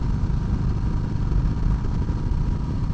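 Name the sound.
sport bike motorcycle with Red Bull wrap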